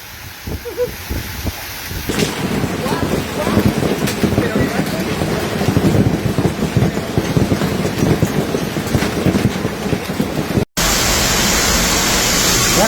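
A hailstorm with heavy rain and thunder in La Rioja, Spain: a dense, steady roar of pelting hail and rain fills the scene after a quieter start, loud and close, with a sharp cut partway through.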